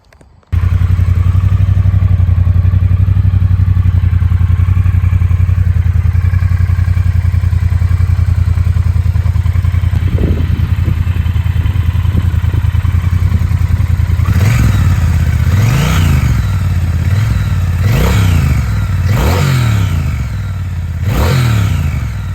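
Triumph Bonneville T120 twin-cylinder motorcycle, Distinguished Gentleman's Ride Edition, started up then settling into a loud idle, followed by a series of sharp throttle blips and revs near the end, with no voices.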